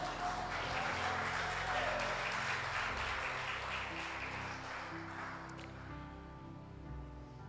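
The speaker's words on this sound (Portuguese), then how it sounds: "Pode aplaudir o Senhor e pode sentar." A church congregation applauds as a sermon closes, a dense clapping wash that fades gradually over about seven seconds, with a low sustained tone and a faint voice beneath.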